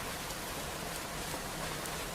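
Steady rain falls in a dense, even hiss of countless drops on a surface, constant throughout with no voices or other sounds.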